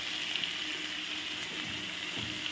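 Fish frying in a pan with onions, giving a steady, soft sizzle that stays level and faint throughout, with no talking.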